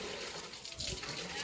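Water leaks from a hose pipe with a steady, close hissing spray that swells briefly midway, with voices in the background.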